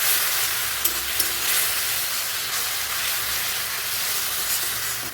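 Onion, potato and spices for masoor dal sizzle hard in a pan after water is added, a loud steady steamy hiss that holds throughout with a few faint clicks.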